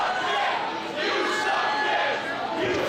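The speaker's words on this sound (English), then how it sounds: "the crowd here at the Logan Square Auditorium all over Sami Callihan" A wrestling crowd at the Logan Square Auditorium roars and jeers during an intergender match, a dense, steady wall of voices with a commentator talking over it.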